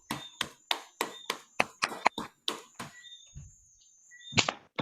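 Claps arrive over open microphones at an online club induction meeting, a quick run of about ten crisp, evenly spaced claps followed by a short quiet gap and a final couple of claps, with faint tones in the background.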